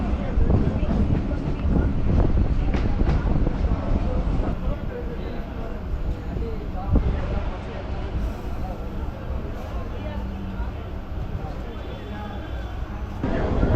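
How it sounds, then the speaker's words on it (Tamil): A steady rumbling electric suburban train ride with wind buffeting and rattling, the roar easing slightly as it slows into St. Thomas Mount station, Chennai, with speech faintly underneath. "ட்ரெயின் இப்போது நிற்கிறது send Thomas mount railway station"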